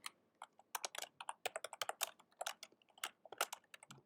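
Quick, uneven bursts of keystrokes on a computer keyboard, close up and crisp, with brief pauses between runs of typing.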